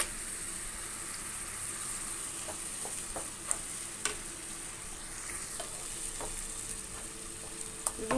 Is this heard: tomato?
yes